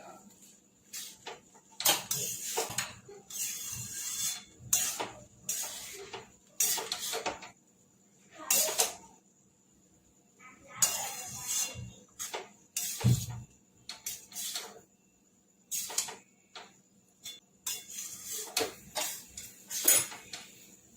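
A spoon stirs green spinach pulao with coriander and salt in a pan, giving steady intermittent scraping and metallic clinks. The clinks come close and fairly soft, with short quiet gaps between strokes and no talking.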